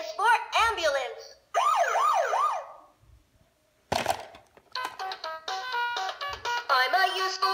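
Toy V-Tech GO!GO! Smart Wheels ambulance sounding its electronic siren in loud, repeated wailing sweeps, cutting off briefly before a burst of noisy clatter and a return of tonal electronic chimes.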